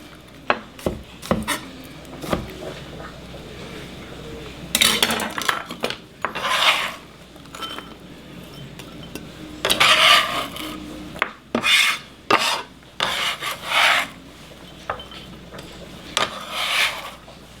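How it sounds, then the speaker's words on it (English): A knife chops onions on a cutting board for beef ragu, with repeated bursts of close rasping strokes and sharp taps on the board, alone without talk. "this is a very satisfying thing to watch me cut onions"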